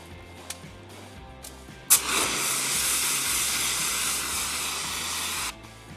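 After a sharp click, a fire extinguisher lets out a loud, steady hiss as it sprays dry chemical at a fire for about three and a half seconds, then cuts off abruptly.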